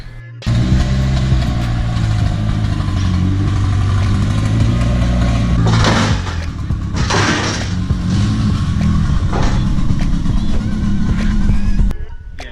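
A budget race car's engine runs as the car is moved off a trailer: a loud, steady idle with a couple of brief throttle blips in the middle, ending in sudden silence.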